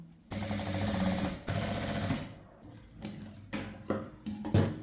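A sewing machine stitching a blouse lining together runs in fast, steady rattling bursts, loud and close, with short pauses between runs and no talk.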